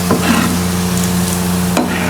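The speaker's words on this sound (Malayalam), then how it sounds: "ഉള്ളിയും കൂടിയും വറുത്ത് കോരി വെക്കുന്നുണ്ട് കേട്ടോ." Onions frying in hot oil for a chicken biryani, a steady close sizzle that continues without a break, with stirring scrapes and a sharp clatter near the end.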